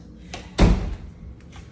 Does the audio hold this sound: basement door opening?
yes